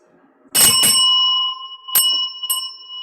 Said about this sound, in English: Rougarou rings the big dinner bell hanging on the front porch.